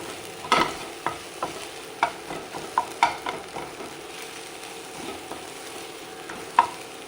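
A spatula scrapes and taps repeatedly through sprouted green gram and egg thoran in a pan, a series of close, uneven clicks over a soft, steady sizzle.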